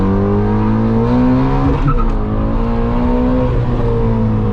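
A modified Ford Mustang GT350 pulls hard under full throttle, its engine roaring loud and close with rising harmonics, a brief dip around a gear change, then climbing again.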